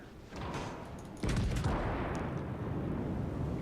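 Heavy naval guns boom out in World of Warships, a sharp onset followed by a long, dense rumbling roar of sustained fire that stays loud without any talk.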